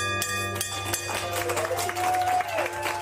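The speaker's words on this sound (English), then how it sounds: "There she is, arriving to a round of applause for her final round of chemo" Friends and family applaud Abby Wilson as she arrives for her final round of chemotherapy, a short burst of close clapping and cheers with footsteps and voices mixed in.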